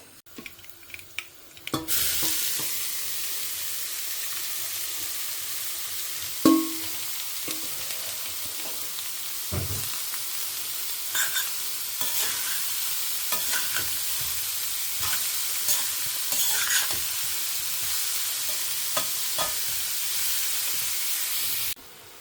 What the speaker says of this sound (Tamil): முட்டைக்கோஸை தேங்காய் போட்டு வதக்கின்றலாம்.